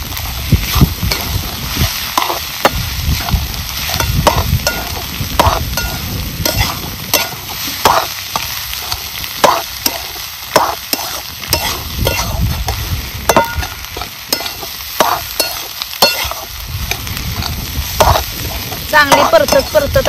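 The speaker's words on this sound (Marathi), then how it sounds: "आणि सगळं एकजीव करून आता आपल्याला भुर्जी चांगली परतून घ्यायची" Egg bhurji with onion stirred and fried in a pan, with continuous sizzling broken by frequent scraping strokes of a spatula, close and loud.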